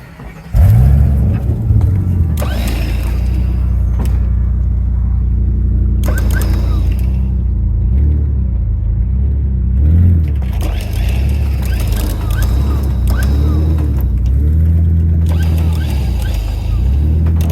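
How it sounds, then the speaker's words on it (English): Ford Bronco II pulling off and rolling in gear, a low engine rumble with mechanical rattles and clunks that holds steady for the whole stretch, close by. "Just slam her in a gear when you get to rolling there, Andy."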